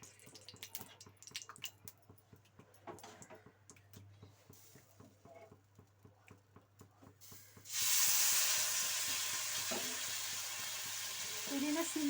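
Dosa batter hitting hot oil on a pan, a sudden loud, steady sizzle that takes over after quiet scraping and stirring sounds, continuing close and strong to the end.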